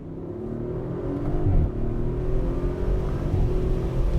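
A 2023 Audi RS4 B9 accelerates in manual mode, second gear, its engine note rising steadily and loud throughout with a brief surge midway, heard from inside the cabin with the sunroof open.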